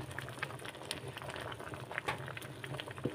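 Monggo stew with leftover fried dried fish, chicken and tilapia bubbling in a pot, a steady soft simmering hiss with small irregular pops and crackles throughout, close and moderately quiet.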